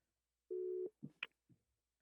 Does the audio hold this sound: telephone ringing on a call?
yes